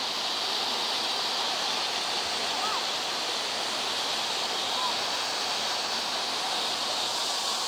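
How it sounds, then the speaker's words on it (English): Boyana waterfall on Vitosha mountain pours down the rocks in a constant, dense rushing roar, heard close and loud throughout. "here, there's the waterfall."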